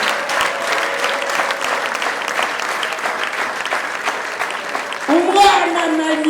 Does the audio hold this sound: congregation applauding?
yes